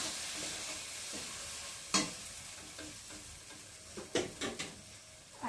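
A utensil stirs frying food, tripe being mixed in a pan, over a faint, steady sizzle. Scattered scraping and clinking strikes come close by, with one sharp knock early on and a cluster of clatters near the end.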